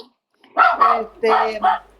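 A dog barks four times in two quick pairs, loud and close, indoors in a home during a call.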